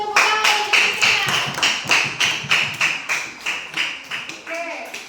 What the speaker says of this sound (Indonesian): berikan tepuk tangan untuk Sina